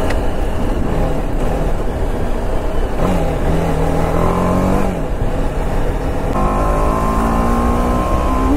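A nearby RR 310 motorcycle engine holds a loud, continuous roar and is blipped through several rises and falls in pitch, without any talking.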